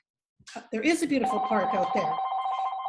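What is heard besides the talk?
phone ringing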